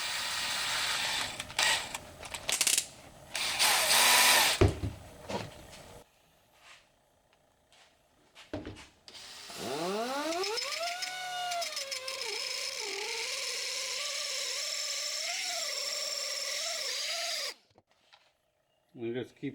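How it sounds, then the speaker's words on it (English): An electric drill spins a rusted bracket from a 1956 barn-find VW Beetle, its motor whining up to a long steady run while grinding and scraping sounds come in short bursts before and after. "Then I chuck it up in my drill."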